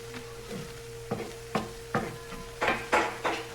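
Cream cheese sauce in a pan gives a soft, steady sizzle. Several distinct stirring scrapes and taps punctuate it at intervals, and a low background hum sits underneath.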